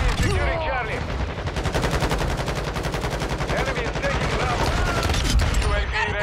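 Rapid gunfire in the video game Modern Warfare 2, a dense, continuous stream of sharp shots that sounds almost automatic, with speech now and then over the fire.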